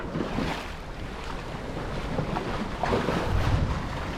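A sailboat under way at sea, with a steady rush of wind and waves washing past the hull, wind buffeting the microphone throughout, loud and continuous with no talking.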